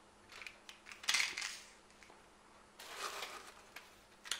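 Small metal fishing spoon lures from a Gibbs subscription box clink and rattle as they are handled, with light metallic taps in short bursts between quiet gaps.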